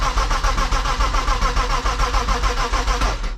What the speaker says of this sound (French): Ça démarre pas.